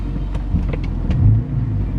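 A car with a newly installed Rogue Engineering short throw clutch pedal pulling away, heard from inside as a loud, steady low engine rumble with a slight rise in revs and a few faint clicks.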